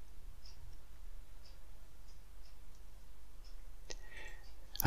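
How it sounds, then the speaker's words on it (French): Computer mouse clicks while a website is navigated on a Windows 10 PC: a few faint, sparse clicks, then a louder burst of clicking near the end, over a quiet room hiss. "Je clique ici."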